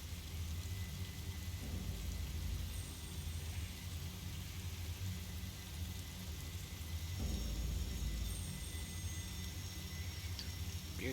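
Heavy rain pours steadily in the game Fatal Frame: Maiden of Black Water, a dense hiss with low rumbling swells of thunder rolling through in the background, no voices.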